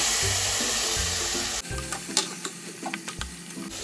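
Boiled green peas being stirred into a thick masala curry in a pan, giving soft scraping and wet stirring sounds over a steady sizzle, with a brief pause partway through.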